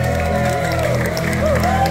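Loud crowd applause at a live concert, clapping mixed with cheering and whoops under a steady musical drone, with voices mingling in the noise throughout.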